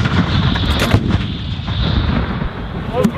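A 105 mm artillery gun fired by U.S. Army soldiers during a field exercise produces a loud, sustained rumbling blast and roar, with shouted voices nearby.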